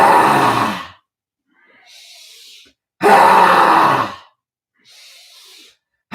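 A loud, forceful pranayama breathing exercise in a yoga session: two long roaring exhalations, each followed by a softer, airy intake, in a slow, even rhythm.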